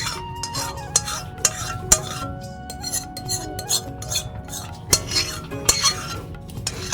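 Cooled palm fruit pulp poured into a pan and stirred for a village-style palm pitha, with repeated sharp metal clinks of a spoon against the pan over a soft wet stirring and faint sizzle, close by.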